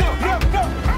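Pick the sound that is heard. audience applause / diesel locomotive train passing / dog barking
dog barking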